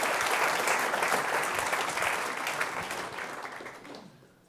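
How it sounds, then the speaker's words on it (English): A crowd at a game developer keynote event in Mexico applauds warmly, dense clapping holding steady before gradually fading out over the last second. "So again, applause for you."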